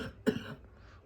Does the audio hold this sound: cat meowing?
no